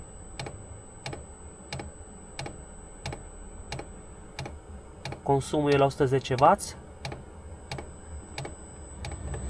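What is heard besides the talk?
diesel heater fuel pump ticking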